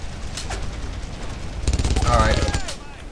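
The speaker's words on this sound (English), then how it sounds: "let's go get on the machine gun" Bursts of automatic machine-gun fire from the video game Brothers In Arms: Road to Hill 30, rapid repeated shots that grow louder and denser toward the end, with someone talking over them.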